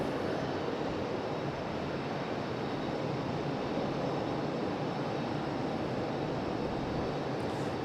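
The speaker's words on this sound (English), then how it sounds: "Here goes our special JetBlue. First departure of the show." A JetBlue airliner departs from Raleigh-Durham International Airport, a steady broad engine roar heard from a distance that holds at the same level throughout, with no voices.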